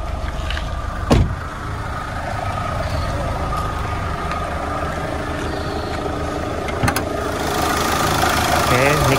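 Chevrolet Captiva 2011 diesel SUV engine idling, a steady low rumble with faint knock, continuous and close, with a couple of brief clunks and talk over it.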